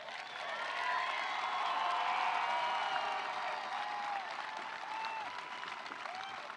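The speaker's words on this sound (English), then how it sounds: "Could we have another round of applause for these seniors?" A crowd at a 2024 high school graduation ceremony applauds steadily for the graduating seniors. The clapping swells early, then holds as a dense, fairly distant wash with no voices over it.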